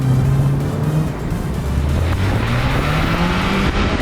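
Turbocharged engine of a 2021 MINI Cooper droning steadily while driving, its pitch rising gradually as the car accelerates, loud and continuous with road noise and no voices.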